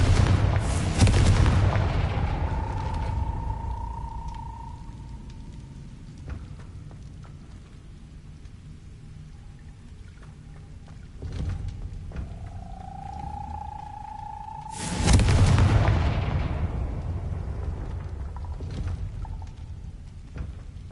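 In Hogwarts Legacy, the Confringo blasting spell sets off two heavy booming explosions several seconds apart, each followed by a long rumbling decay over a rainy, ambient game soundscape with a faint whooshing tone.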